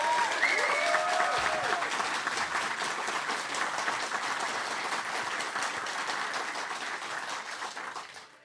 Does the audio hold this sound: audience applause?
yes